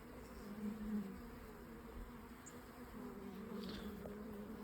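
Honeybees hum steadily around an open beehive holding pollen and brood, a close, continuous drone with no talk.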